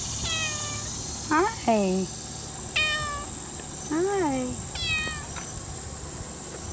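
A cat meows repeatedly outdoors, several distinct rising and falling calls spaced across the stretch, while a person softly greets it over a faint steady insect hum.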